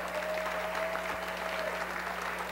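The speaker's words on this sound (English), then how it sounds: "let's give the Lord a round of applause" A church congregation at a baptism service applauds in a steady, even wash of clapping that holds at moderate level throughout, heard from within the room.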